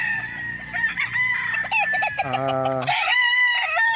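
Roosters on a farm lot in Pagsanjan, Laguna crow loudly and close by, with steady clucking from the flock running underneath and a long drawn-out crow rising clearly in the middle.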